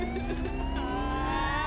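Ambulance siren in the mobile game Avatar World, a loud, steady electronic wail with rising and falling tones, continuous and close, with no voices over it.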